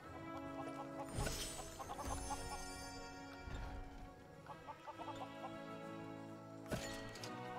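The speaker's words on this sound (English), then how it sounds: "Did I hear a chicken?" Chickens cluck repeatedly in the video game Lego Worlds, several short bursts over background game music, fairly quiet overall.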